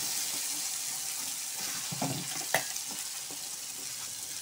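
Ground ripe red chilli and tomato chutney frying in oil, a dense steady sizzle and crackle throughout with a brief stir and a clink near the middle, no speech.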